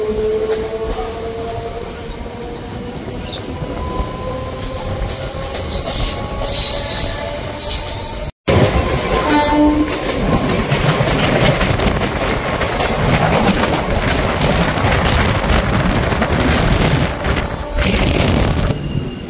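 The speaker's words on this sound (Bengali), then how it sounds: "আমাদের ট্রেন কিন্তু বাউরিয়া স্টেশনে এসে পৌঁছালো" A local train on the Howrah–Digha line runs loud and close on its way into Bauria station, wheels squealing and rails rumbling, with a brief break partway and harsh bursts of clatter as it rolls in.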